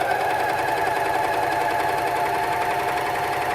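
A Juki MCS 1800 coverstitch machine runs a chain stitch with a steady, continuous mechanical hum, close and even throughout, with no talking.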